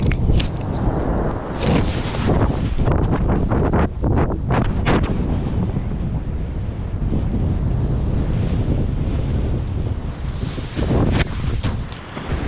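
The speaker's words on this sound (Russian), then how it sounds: "Ветер сильный" Strong wind roars and buffets against the microphone continuously, with heavy gusting rumble and occasional sharper blasts throughout.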